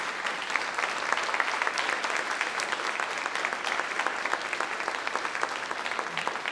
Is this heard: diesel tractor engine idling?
no